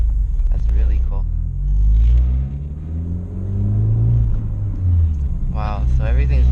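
Engine vibration in a 2012 Honda Fit fitted with a Beatrush engine mount and Spoon rigid collars, heard from inside as a deep, loud droning rumble that rises and falls with revs, while people talk over it.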